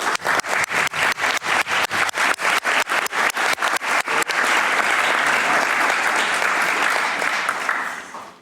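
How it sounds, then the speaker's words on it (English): Applause for interpreters at a WHO pandemic agreement negotiating session, starting as loud rhythmic unison clapping in a steady beat, then breaking into a sustained dense wash of clapping that fades out near the end, with no talk. "maybe we can applaud them now that they are still here doing this work"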